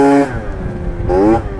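A Yamaha Aerox 70cc scooter revs sharply twice for a wheelie, each burst a rising buzzy two-stroke whine close by, with a quieter idle in between.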